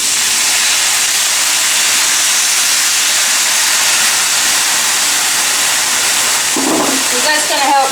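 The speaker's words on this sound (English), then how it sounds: "you want to add just a little bit of water and it's going to sizzle." Loud, steady hissing sizzle of stir-fry vegetables in a hot pan after a little water is added, with a voice briefly starting up near the end.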